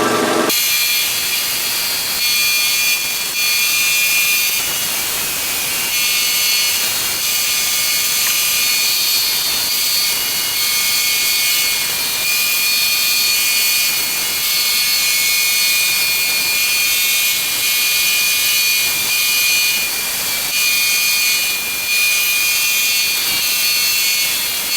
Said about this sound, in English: Probably the easiest way to do that is with the big belt sander.